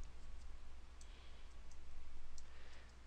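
Faint computer mouse clicks during a software installation, a few small isolated ticks spread over a few seconds above a quiet steady hum, with no talk.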